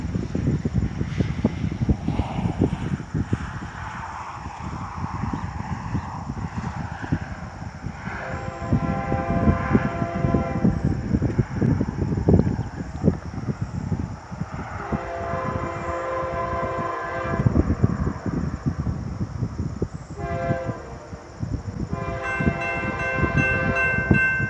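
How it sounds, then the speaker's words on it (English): A BNSF train approaches a road crossing on the Staples Subdivision in Detroit Lakes, Minnesota, with a steady rolling rumble and repeated long, loud horn blasts that grow closer over the length of the clip. "we have a train coming"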